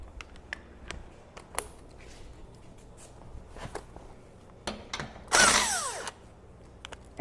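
A power tool loosens a suspension mount on a 200 Series Land Cruiser, with one loud burst of whirring near the end after scattered clicks and ratchet ticks, close by and otherwise fairly quiet.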